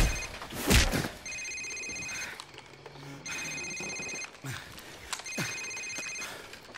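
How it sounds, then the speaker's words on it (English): A cell phone rings in the video game Call of Duty 4: Modern Warfare, with three bursts of electronic ringing, each about a second long and separated by short gaps, against a murky in-game background with a thud near the start. "Sir, it's his cell phone."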